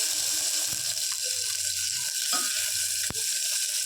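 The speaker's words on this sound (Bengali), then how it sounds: "এবার এর মধ্যে আমি দিয়ে দেব আদা আর জিরে" Ginger and cumin paste frying in a pressure cooker, a steady close hiss with a few light clicks and clatters of utensils against the metal.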